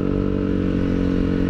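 Yamaha Aerox 155 scooter engine with a new aftermarket exhaust holds a loud, steady high rev around 5000 rpm, a rough throbbing drone close by with no pauses.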